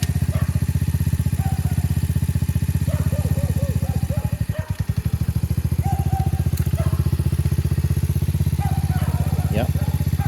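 Motorcycle engine running steadily throughout with a loud low rumble, a brief revving dip midway, and people talking over it close by.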